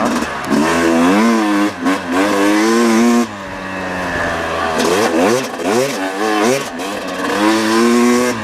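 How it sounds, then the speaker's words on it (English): A 2018 Yamaha YZ250X dirt bike out on a trail ride runs slightly too rich. It roars loud and close, revving up and down through repeated throttle blips, with a brief drop in pitch midway before climbing hard again. "I do feel like the bike is running a little bit better, but I still think it's just too rich."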